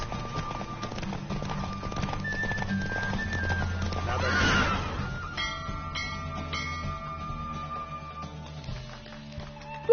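Hooves pound at a gallop in The Witcher 3: Wild Hunt, a steady rhythmic clip-clop with a horse whinny and game music layered over it, heard without talking.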